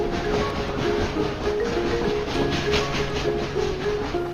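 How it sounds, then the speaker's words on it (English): A toy train running on its tracks, a continuous mechanical rumble with steady humming tones throughout, fairly loud and close, with no talking over it. "So let's get the train running."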